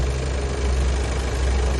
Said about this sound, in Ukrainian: Ну, Працює двигун рівно.